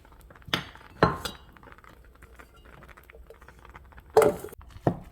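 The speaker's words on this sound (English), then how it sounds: "start mixing in your rice into your custard mixture" Spoon scraping and clinking against a bowl while leftover rice is stirred into a custard mixture for rice pudding; a few sharp knocks stand out over soft, quiet stirring.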